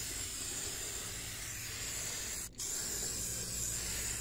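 Steady, close hiss of spray paint coating the rusting underside and axle area of a utility trailer, running continuously with one brief break midway.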